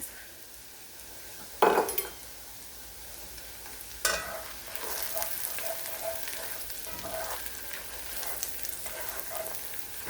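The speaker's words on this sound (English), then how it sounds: "we're just going to cook our garlic until it becomes fragrant." Garlic sizzles softly in a pot for a broccoli cheddar soup, after onions have softened, with a steady faint frying hiss, a sharp scrape of a utensil near the start and another around four seconds.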